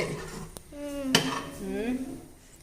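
Curd rice being stirred in a metal vessel, with spoon scrapes and clinks against the pot, a few sharp knocks, and soft kitchen background sounds.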